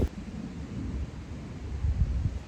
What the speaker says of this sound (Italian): Sentito il tuono? C'è praticamente una tempesta che sta arrivando